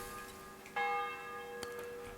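A church bell in the video game Kingdom Come Deliverance 2 strikes once with a clear, ringing metallic tone that lingers and decays, followed by a fainter knock and a quiet background hum.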